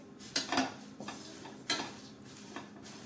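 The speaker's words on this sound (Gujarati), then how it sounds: "અહીં પેન મૂકેલું છે અને તેમાં આપણે આ ચાળેલા પૌવા ઉમેરી દઈએ" Thin poha flakes tumble into a dry pan on a stovetop and get stirred, giving soft scraping and rattling with a few sharper metallic clinks and knocks spaced irregularly, close and fairly quiet, with no talking.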